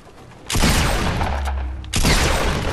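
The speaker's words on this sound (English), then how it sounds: "Someone's minigunning me." Minigun fire in the video game Fortnite comes as two loud, sustained bursts of rapid shots, the first lasting over a second and the second starting just after it ends.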